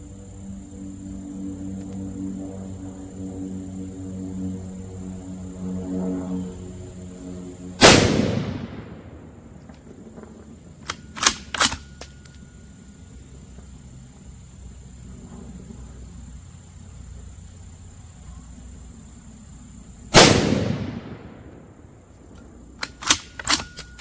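Two sharp, loud rifle shots from a Bear Creek bolt-action .22-250 upper firing Remington hunting ammo crack about twelve seconds apart, each with a fading echo, over a steady outdoor chorus of crickets.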